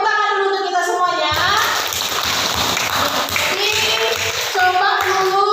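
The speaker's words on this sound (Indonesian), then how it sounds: "tepuk tangan dulu untuk kita semuanya" Children clapping their hands together in a classroom, a dense burst of claps lasting several seconds with a voice and teacher speech at the start and end.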